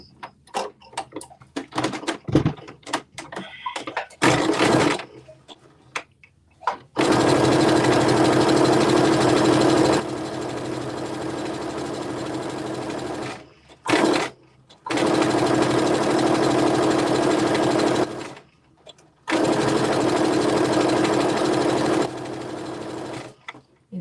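A sewing machine runs in three long, steady bursts of stitching down a 5/8-inch seam allowance, with short pauses and light handling clicks before the first run; no talking.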